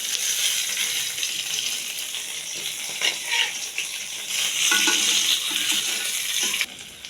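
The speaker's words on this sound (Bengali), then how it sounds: "মাছ ভাজি বেগুন ভাজি একসাথে হয়ে যাবে।" Fish head and eggplant fry together in hot oil in a pan, a dense continuous sizzle that swells slightly partway through, with occasional clinks of stirring, close and fairly loud.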